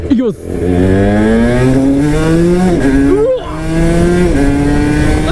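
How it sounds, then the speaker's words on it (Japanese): A 134 kg RS125 two-stroke 125cc motorcycle making 34 hp pulls hard from first gear, its high-pitched engine note climbing steeply and rising again after quick upshifts, loud and close, with a brief spoken word at the start. "それでは一速からパワーバンドの加速開けていってみましょう。"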